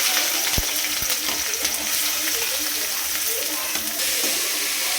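Chopped onions fry in hot oil with a little fennel seed in a pan, giving a steady crackling sizzle with a few sharp clinks from a utensil against the pan.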